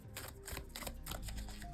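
A deck of playing cards being shuffled during a board game setup, a rapid run of close, crisp riffling clicks and paper flutters that continues steadily throughout, with no talk.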